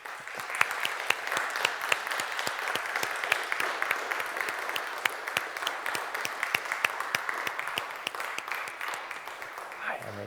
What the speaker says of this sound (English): can we all give a massive round of applause for Georgina?